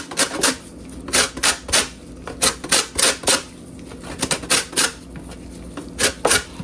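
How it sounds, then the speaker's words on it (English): Lemon zest grated by hand, giving a run of crisp, rhythmic rasping strokes in quick bursts with short pauses between, close and fairly loud with no talking. "So we're just going to grate the zest of the lemon."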